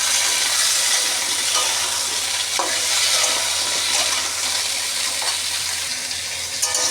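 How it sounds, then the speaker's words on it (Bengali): Potatoes fry steadily in a pan, a dense continuous sizzle with occasional clinks and stirring scrapes, close and loud with no talking. "বেশ কিছুক্ষণ ভেজে নিলাম আলুটাকে।"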